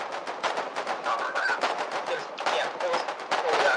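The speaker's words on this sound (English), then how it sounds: "Colonial field machine gun on the right side of the road" Colonial field machine gun firing beside a road in the war game Foxhole, a steady run of rapid close bursts with mixed battlefield gunfire around it for the whole stretch.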